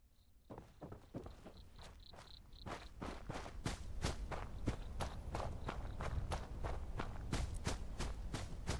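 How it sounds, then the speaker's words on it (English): Footsteps of a character walking in the video game Fallout 4: London, a steady run of crisp, evenly spaced steps that grow slightly louder and continue alone for several seconds without talk. "The earth trembles at your mighty footsteps."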